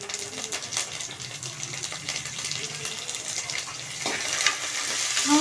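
Cumin seeds and curry leaves sizzling in hot oil in a frying pan for rice flour upma, a steady close hiss and crackle that grows slightly louder toward the end.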